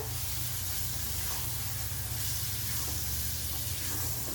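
Beef chunks with potatoes sauté in a pan, giving off a faint, continuous hissing sizzle that stays even and unbroken from start to finish.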